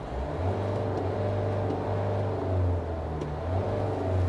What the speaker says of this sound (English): try to listen to the engine now.